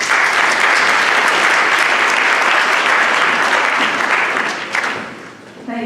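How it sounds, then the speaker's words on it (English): An audience at a candidates' debate in Calgary gives a loud, sustained round of applause that fades near the end as a voice begins. "She would like to do us a round of applause."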